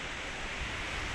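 Kali Gandaki river flowing below Beni Bazar, the district headquarters of Myagdi in Nepal, giving a steady broadband rush of water, even and unbroken, with no voices.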